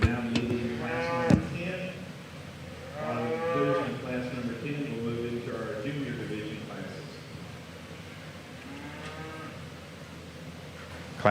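Polled Hereford heifers at the 2024 San Antonio breeding heifer show give a few drawn-out moos over a constant hall murmur and background noise.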